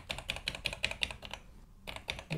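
Rapid clicking keystrokes on an Atari 800 XL computer keyboard after repair, a quick run of close taps, a brief pause, then a few more presses.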